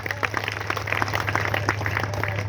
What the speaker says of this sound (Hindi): एक बार जोरदार तालियां हो जा साथियों